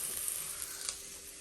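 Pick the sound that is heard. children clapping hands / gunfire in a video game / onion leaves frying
onion leaves frying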